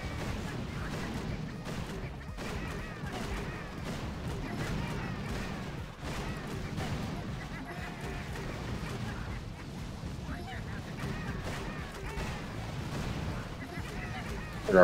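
Doom cannon blasts in the Boom Beach Warships mobile game, repeated booming artillery-like fire layered over dense battle noise throughout.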